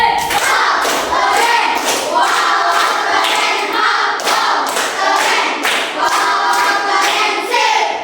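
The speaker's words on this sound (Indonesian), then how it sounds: "Kasih tepuk untuk kelompok 1." A classroom of students clapping together for a group during a lesson, loud rhythmic patterned claps in repeated bursts and cheers, like a practiced class clap routine, close and filling the room.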